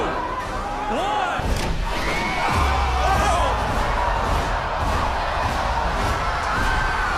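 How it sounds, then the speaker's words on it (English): Contestants at a MrBeast competition cheer together beneath a platform set above $5 million in cash, a loud, sustained crowd roar with shouts and a heavy thump partway through. "they were instructed to cheer"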